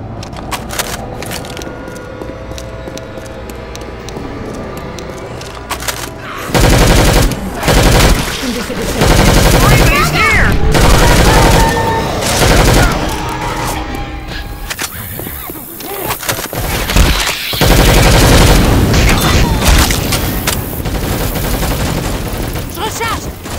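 Loud bursts of rapid automatic gunfire and shots from the zombie shooter game Left 4 Dead 2, coming in heavy volleys with quieter gaps and game noise between them.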